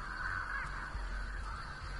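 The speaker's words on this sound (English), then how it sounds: "She just scared a bunch So of crows." Crows caw in the video game Dead by Daylight as they are scared off, a steady stream of bird calls over continuous game ambience and low rumble.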